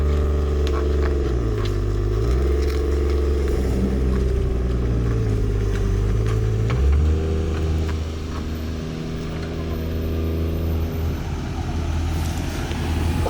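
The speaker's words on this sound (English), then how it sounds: "This thing has a valved exhaust and it's closed right now, so it's super quiet." A BMW E36 with a 2JZ swap drives with its valved exhaust closed, giving a subdued, steady engine hum that shifts in pitch with gear changes and acceleration, heard from inside the car without talk.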